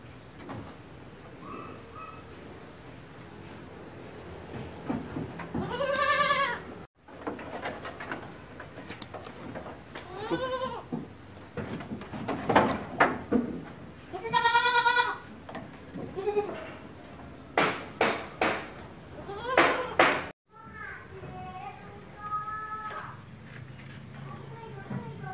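Etawa goats on a farm bleat repeatedly, several calls near and loud, some overlapping, with people talking in between and other farm noise around.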